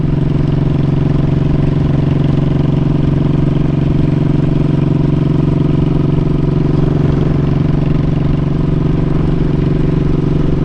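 An old Honda Shadow motorcycle engine runs steadily at an even, low throb through a road trip toward Tennessee, sounding close and continuous with no voices over it.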